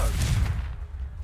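A Confringo spell cast in the Hogwarts Legacy video game lands as a loud, booming blast with a gunfire-like crack, its deep rumble fading over about a second with no voices.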